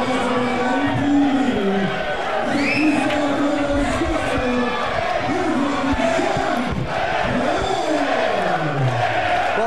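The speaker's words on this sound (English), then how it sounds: "the crowd is definitely trying to drown out anything for Shane" A loud fight-night crowd roars and cheers nonstop at a combat event, shouts and whistles rising over a dense wall of voices, with a commentator's voice faintly mixed into the din.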